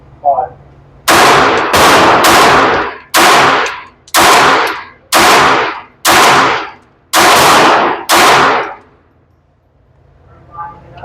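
A .22LR firearm fired at an outdoor range, about ten sharp, loud shots in an irregular rapid sequence, each with a short decaying tail, with quiet gaps and faint background sound at either end.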